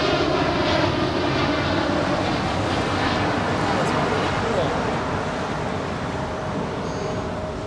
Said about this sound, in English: So that's United Flight 1990 off to Newark. It's a 2-year-old 787-10 Dreamliner.